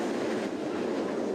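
Train travelling across the countryside, a steady rumbling roll of wheels on rails with a soft clickety-clack, heard continuously from on board with no break.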